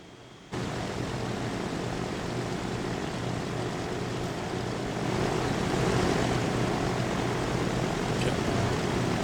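Propeller airplanes fly in the transport simulation game Transport Fever 2, a steady engine drone starting abruptly after a brief silence and swelling slightly louder midway, with no talk.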